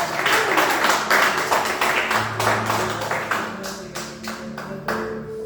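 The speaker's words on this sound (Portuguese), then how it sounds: "Aplauda o nome dele, igreja." A church congregation claps together in a dense, lively burst that gradually thins into scattered individual claps, with a sustained low tone continuing underneath.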